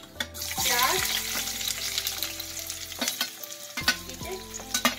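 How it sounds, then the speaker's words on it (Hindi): Onions frying in hot oil for a desi spaghetti dish: a bright sizzle burst as they go in, then continuous crackling with stirring clatter, and someone talking over it. "ये लीजिए जी, ऑयल हमारा गर्म हो चुका है। अब हम इसमें डालेंगे प्याज"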